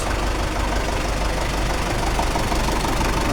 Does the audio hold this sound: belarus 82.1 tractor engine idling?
yes